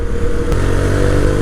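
A Vikrant V12 motorcycle rides along, its engine giving a steady, loud drone with a low rumble and a brief clatter partway through, close to the microphone with no talking.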